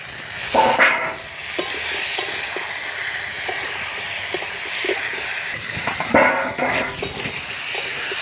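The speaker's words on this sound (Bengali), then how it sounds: "মশলার সাথে আলুটা আবারও ভালো করে কষাবো" Fried potatoes being stir-fried with spices in a pan, a continuous hissing sizzle with repeated scraping strokes of a spatula.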